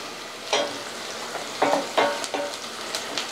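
Onions frying in a pan for a batch of pickled jalapeños, a soft steady sizzle with a few louder stirring scrapes and clinks, close and alone without talk.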